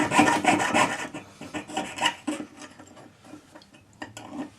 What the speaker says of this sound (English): Lean against the saw to tension it, tighten it, and saw out very carefully